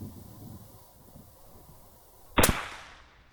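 A single sharp .308 rifle shot from a Ruger Gen II firing Federal Fusion ammunition at a target 75 yards away cracks loudly after a few seconds of quiet outdoor ambience, then trails off in a brief decaying echo.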